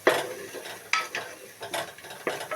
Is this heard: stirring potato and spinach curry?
yes